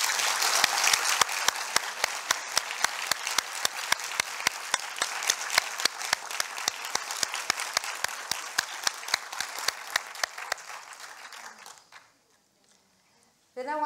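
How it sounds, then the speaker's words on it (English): An audience at an inaugural university lecture applauds in a strong, even round. The dense clapping carries a regular rhythmic pulse, then fades out near the end, leaving a brief near-silence before a new sound starts. "help me in giving a round of applause to my team"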